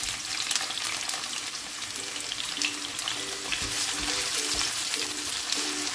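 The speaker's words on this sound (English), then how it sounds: "Fry for a minute, then add my" Sausages frying in a pan, a loud, dense continuous sizzle with faint stirring underneath and no talking.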